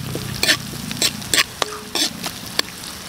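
Sliced onions sautéing with browned garlic and ginger in a pan for bopis dinuguan, a close sizzle broken by several sharp stirring scrapes and clinks, with no talking.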